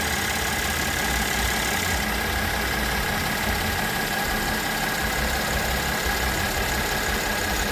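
A 2014 Mercedes-Benz ML350 engine idles steadily after a misfire repair, giving an even, continuous hum heard close up with no talking.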